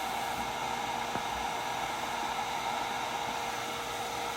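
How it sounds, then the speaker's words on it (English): A heat gun runs steadily at close range in a powder coating setup for fishing jigs, giving an even, continuous airy roar with a faint click partway through and no talking. "So I'm going to turn the heat gun on."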